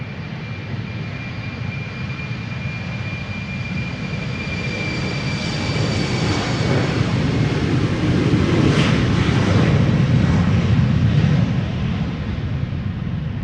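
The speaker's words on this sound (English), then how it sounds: "KLM flight 1201 to Oslo, Embraer 190," A KLM Embraer 190 jet on flight 1201 to Oslo rumbles during departure at Amsterdam Schiphol, a broad steady engine roar that builds gradually and peaks near the end, with a thin whine riding above, loud and close with no talk.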